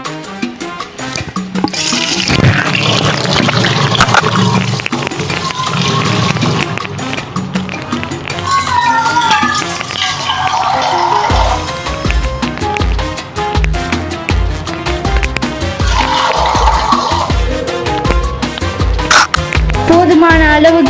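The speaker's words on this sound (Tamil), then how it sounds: "போதுமான அளவுக்கு தண்ணி சேர்த்துக்கிட்டேன்." Tap water runs steadily into a cooking pot being filled for Maggi noodles, a continuous rushing pour heard throughout with music playing underneath.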